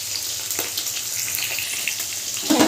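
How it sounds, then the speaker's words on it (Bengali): Pieces of hilsa fish fry in oil in a pan, giving a steady close crackling sizzle with a few sharper spits and a brief louder burst near the end, with no voices. "ইলিশ মাছ কিন্তু বেশি ভাজার দরকার নেই, সামান্য একটু ভেজে নিয়ে আমি মাছটাকে তুলে নেব"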